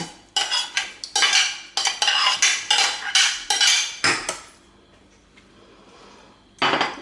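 A spoon stirs a cake filling mixture in a pot, quick rhythmic metallic scrapes and clinks repeating close up for about four seconds, then a pause before one more scrape.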